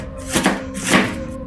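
Knife slicing through a head of fresh cabbage on a cutting board, with two crisp, crunchy cuts about half a second apart over a quiet kitchen background.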